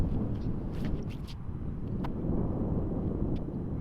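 Wind blowing across an open disc golf course gusts into the microphone as a dense low roar, steady and fairly loud, with a few faint higher knocks above it.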